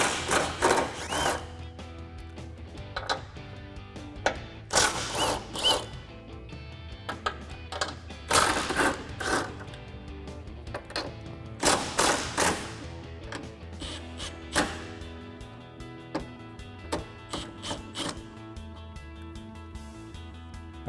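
A 13mm socket ratchet clicks in repeated bursts while backing off the shock tower nuts on a 2005-2014 Mustang during a coil-over install. The ratcheting is close, with short pauses between bursts and no talking.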